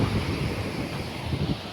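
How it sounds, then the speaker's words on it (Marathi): Rushing floodwater near Ghanewadi lake in Jalna, a loud, continuous low roar of churning water mixed with wind buffeting the microphone, with no voices. "हा असा काही खळखळ पाणी इथून फार भारी वाटतं"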